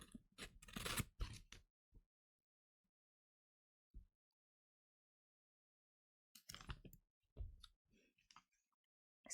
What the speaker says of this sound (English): cut along the wrapping.